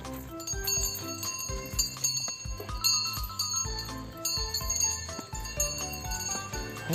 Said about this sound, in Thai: กระดิ่งนะแล้ว